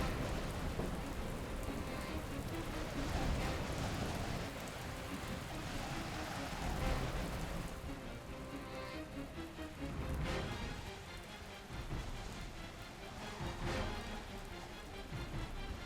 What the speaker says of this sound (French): Sonny, la tempête devient de plus en plus forte.